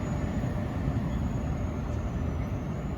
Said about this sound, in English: Being shoved by one of the ALP 46s, the early models.